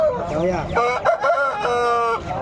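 A fighting rooster at a Sankranti cockfight in Mydukur crows loudly and close by, its drawn-out, wavering calls carrying over a background of people talking.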